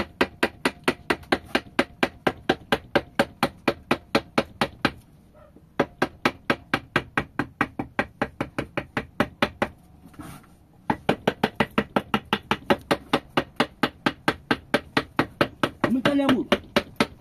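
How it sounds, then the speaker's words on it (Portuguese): A small mule figure being hand carved from wood, heard as steady, evenly spaced knocks of a tool striking the block, close and loud, with two short pauses and a brief voice near the end. "Vamos entalhar a mula."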